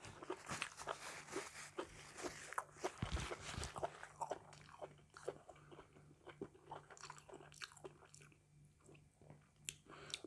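Crunchy chewing of spicy Thai beef tripe salad, close, repeated bites and crackly crunches in an irregular rhythm, with soft handling noises.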